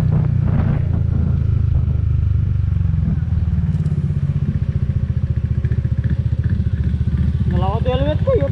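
Yamaha NMAX scooter engine hums low and steady while riding, a continuous close rumble with faint clatter, and a voice briefly calls out near the end.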